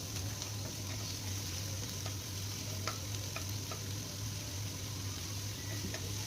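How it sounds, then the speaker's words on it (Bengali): Onion and green chili fry gently in oil in a wok, giving a steady soft sizzle with occasional small pops and ticks, heard alone with no talking over it. "পেঁয়াজ কাঁচা লঙ্কাটা একটু হালকা করে ভেজে নেব এখন আমি"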